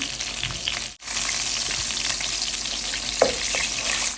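Hilsa fish pieces and eggplant fry in hot oil in a home kitchen: a continuous close sizzle and crackle that cuts out for an instant, then carries on with occasional pops.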